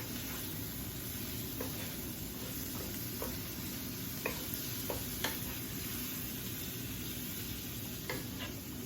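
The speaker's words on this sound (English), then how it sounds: "I'm just gonna keep cooking this until the shrimp is cooked" Shrimp seasoned with salt cook in a pan for Hmong-style fried rice, making a soft, steady sizzle with scattered light taps and scrapes of a utensil at a fairly quiet level, with no voices.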